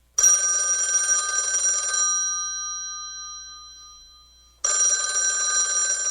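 An old-fashioned telephone bell rings twice, each burst of metallic ringing lasting about two seconds followed by a long fading ring-out, close and clear with no one speaking.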